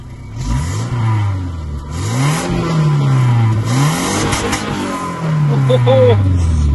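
An Audi 80 engine revs repeatedly through its exhaust, rising and falling in pitch in several swells, loud and close, with a voice in the background.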